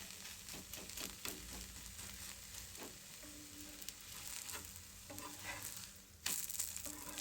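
Wheat flour masala dosa frying in oil on a hot pan, a steady close sizzle and crackle with occasional scraping or stirring clicks and a brief louder burst near the end.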